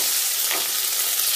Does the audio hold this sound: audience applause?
no